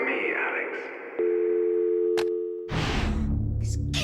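A phone line tone in the Eternal Darkness video game sounds as a steady electronic hum, then cuts off into a noisy burst. Quiet voices and game sounds sit underneath.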